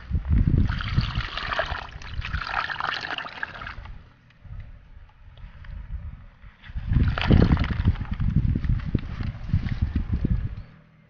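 Thick muddy water pours and splashes in two bursts, with a quieter gloopy stretch between them, heard up close and without talking.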